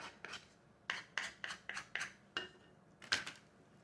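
A metal spoon scrapes and taps stuffing into a bundt pan in a series of quick, close, quiet scoops, each a short gritty rasp against the pan.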